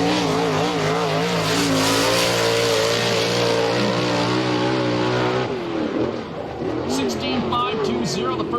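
A USAC/CRA sprint car howls through a qualifying lap at Perris, California, its engine note loud and steady with rising and falling revs, then dipping briefly before surging again; an announcer talks over it.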